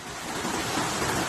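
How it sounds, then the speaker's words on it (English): Muddy floodwater rushing as a powerful current down a flooded avenue in Nova Iguaçu, a dense, continuous roar of churning water, loud and close with no voices. "turned into a powerful current of muddy water"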